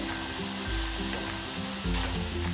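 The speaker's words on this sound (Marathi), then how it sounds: "आता हे नाचोस फ्राय करून घ्यायचे" Steady, dense sizzling of thin wheat-flour nachos frying in hot oil, loud and close, with low bubbling pulses swelling twice.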